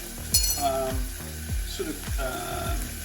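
Food searing in hot oil in a pan: a steady, close sizzle runs throughout, with several clinks and knocks of a utensil against the pan.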